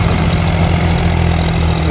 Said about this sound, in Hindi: अभी करते हैं ट्रैक्टर को शुरू